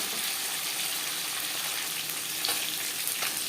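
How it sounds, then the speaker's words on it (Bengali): Fish head and pieces of rohu-type fish frying in hot oil in a pan, a steady close sizzle that fills the clip with no talk. "মাছের মাথা ভাজা হয়ে গেছে একটা পাত্রে উঠিয়ে নেব"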